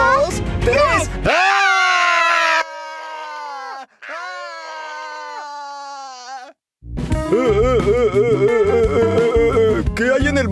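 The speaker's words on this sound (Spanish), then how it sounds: "Espera, quizá podemos gritar muy fuerte. Nos escucharán desde afuera." Several voices scream loudly together for help, sustained cries that rise and fall in pitch, then break into a noisy overlapping burst of shouting, close and intense.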